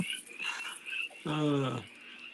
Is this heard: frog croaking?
yes